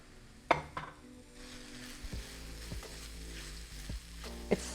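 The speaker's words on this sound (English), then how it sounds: "we're going to mix everything together and saute them" Korean beef with rice cakes and vegetables sautéed in a pan, a soft continuous sizzle with sharp utensil scrapes and clanks against the pan at intervals.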